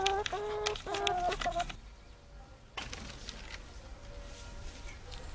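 Free-range chickens cluck and call nearby in a garden enclosure, a burst of vocal clucking, then a pause, followed by fainter clucks over a quiet outdoor background.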